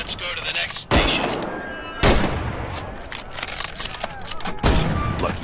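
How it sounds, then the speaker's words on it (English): K98 bolt-action rifle shots in a Medal of Honor VR game, three loud close cracks spaced about a second apart with bolt-cycling clatter and scattered background gunfire between them, no talk. "The K98 is a bolt-action rifle, so you reload by pulling and pushing the bolt after each shot"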